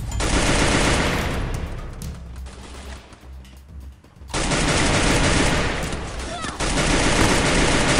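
Automatic gunfire from a shooting video game rattles loud and close in long sustained bursts, breaking off briefly in the middle before resuming just as dense.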